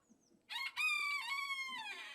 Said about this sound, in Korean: 닭소리에 놀라셨군요.